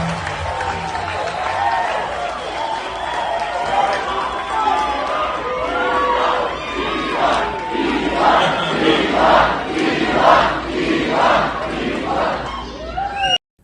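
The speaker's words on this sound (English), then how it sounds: "was that a crowd chanting Elon, Elon, Elon, Elon?" A large crowd chants in a loud rhythmic unison, repeating a name over and over. The voices swell toward the end before cutting off abruptly.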